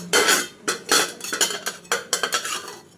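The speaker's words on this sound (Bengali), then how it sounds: "দেখুন, এরপর আমি ঢাকাটা খুলে নেব।" Metal clatter of a cooking pot lid being handled over a pot of boiled mango and lentils, several sharp clanks and scrapes in quick succession, close and distinct.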